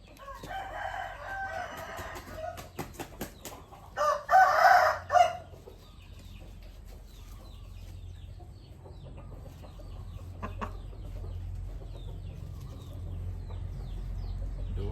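A rooster on a farm crows loudly and close, preceded by a few short clucks and followed by quieter background clucking and low farmyard rumble, with no talking.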